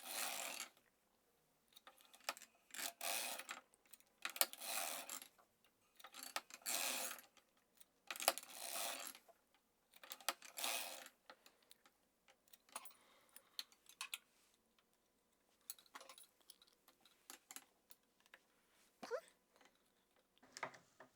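A hand-cranked sock knitting machine clatters in bursts of rapid mechanical clicking and ticking, fairly close, with brief pauses between rows and some quieter tapping.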